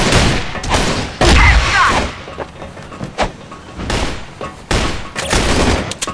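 Money gun firing in the online shooter game Crossfire, rapid bursts of gunfire and loud impacts in quick succession, with sharp clattering shots layered over game effects.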